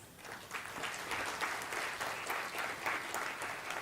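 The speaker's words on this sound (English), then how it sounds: "So a round of applause" An audience claps at an Ayurveda Day celebration and book launch, a dense, even burst of applause sustained for several seconds.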